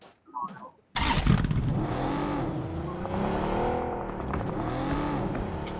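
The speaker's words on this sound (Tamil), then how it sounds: "அவனே வண்டி எடுக்கறான்." A vehicle fires up after a short quiet moment, then its engine runs steadily and loudly with rising and falling revs as it pulls away, with people talking in the background.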